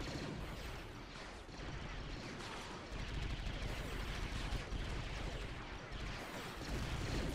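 A Star Wars battle in the game Men of War Assault Squad 2, with dense gunfire and rocket fire from rebel troops against advancing AT-STs: a constant rumbling roar of overlapping blasts, fairly distant and unbroken.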